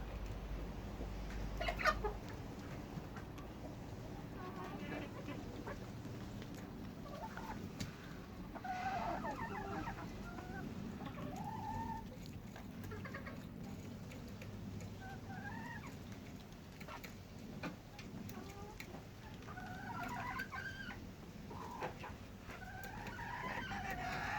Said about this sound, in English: a little bit of footage of these lovely, weird looking birds finding that sunny spot and having a bit of a preen